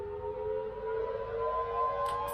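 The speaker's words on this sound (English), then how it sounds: "Sirens going off." Sirens sound near a school, a steady, sustained wail with a slowly shifting pitch, moderately distant and unbroken, with no talking over it.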